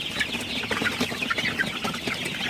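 Sonali super hybrid chickens cluck softly at night, many birds murmuring together in a steady, close chorus with scattered sharper calls.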